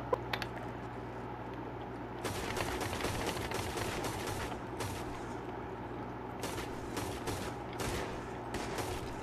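Gunfire in Red Dead Online: a sustained fusillade of rapid overlapping shots, loud and close, sometimes thinning to a few isolated cracks, with a brief pause before a final burst.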